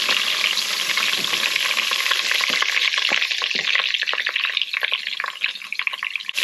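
Fresh basil hits a hot frying pan during the making of scungilli marinara, setting off a loud, dense, crackling sizzle that runs for the whole stretch and thins slightly toward the end, with no voices.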